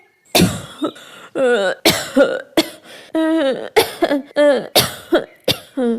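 A child coughs repeatedly in short, harsh bursts, close and loud, with brief pauses and some wheezy, throaty intakes between coughs.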